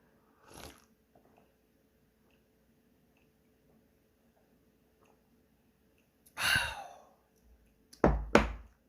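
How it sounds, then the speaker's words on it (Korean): Crispy pan-fried minari (water parsley) pancake bitten and chewed up close: a short crunch near the start, a longer chewing burst midway, then two sharp bites near the end, with quiet gaps between and no talking. "아 먹어보겠습니다 일단은 나름 좀 바삭하게 되긴 했어요"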